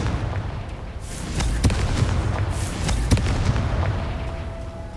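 The Confringo explosion spell cast in Hogwarts Legacy, loud booming blasts and crackling bursts that repeat over a rumbling game background, with no speech.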